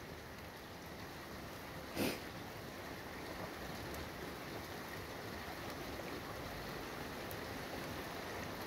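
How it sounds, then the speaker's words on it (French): Steady rainfall during a moderate-to-strong thunderstorm on 22 September 2024, a dense even hiss of drops continuing throughout, with one brief sharp knock or crackle early on and no speech. "il pleut un petit peu plus fort là."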